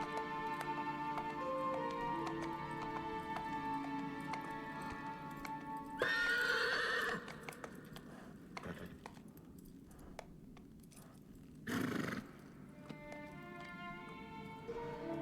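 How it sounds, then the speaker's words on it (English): A horse whinnies loudly over a steady musical backdrop, followed by hoof clopping and a second snort, all with a polished game-like ambience. "That's a big horse."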